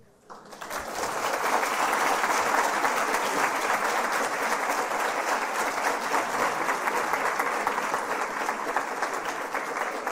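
Sustained, dense applause from a symposium audience after a speech fills the hall, rising quickly and holding steady at full strength for the whole stretch.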